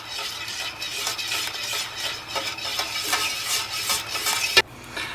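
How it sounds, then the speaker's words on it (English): A spoon stirs homemade chocolate pudding as it cools, making soft repeated scraping strokes against the pot, close and moderately loud, and ending in a sharp clink of the spoon. "We're going to stir occasionally to avoid a skin forming as it cools."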